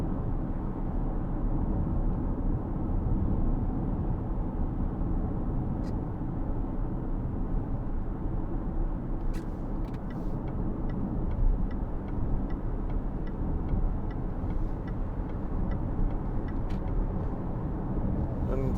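Inside a 2014 Range Rover Vogue 3.0 TD V6 automatic 4WD on the move, a steady low engine and road drone fills the cabin, with a faint regular ticking heard over it and no talk.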